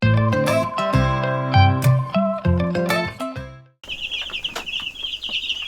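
Loud music stops abruptly and gives way to a flock of meat chickens clucking and peeping for about two seconds against background noise.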